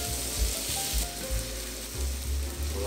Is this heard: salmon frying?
yes